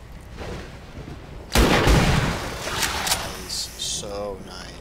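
A single loud gunshot in the XCOM 2 video game, a sharp broadband blast followed by a decaying tail, with game effects after it and no voice over the shot.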